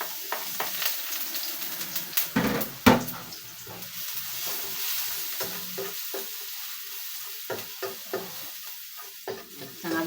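Chopped garlic fries in a pan, a steady close sizzle with a burst of spattering crackle, broken by repeated scraping and stirring strokes of a utensil against the pan.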